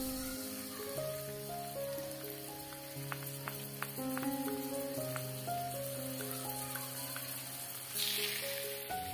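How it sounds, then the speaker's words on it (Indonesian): Spice paste and kaloa sauté in a pan for a Makassar-style fish dish, making a soft, continuous sizzle that stays low beneath background music. "Kita tumis sampai bumbunya tanak dan warna kaloa sudah berubah menjadi hitam pekat."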